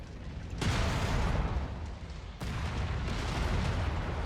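Mech weapons fire an alpha strike in the video game MechWarrior: two heavy, sustained booming volleys of roaring blasts, loud and close, with a brief dip between bursts.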